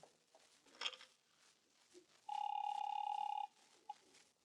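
An old telephone bell gives one short, bright electric ring of about a second, clear and fairly close in an otherwise quiet room, with a faint knock just before.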